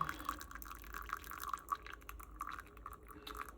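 Water trickling slowly from a kettle onto pour-over coffee grounds, a faint, steady thin stream with small drips, close and quiet with no talk.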